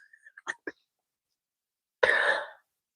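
A single short, harsh cough close by, following a few faint clicks and mouth sounds, then silence.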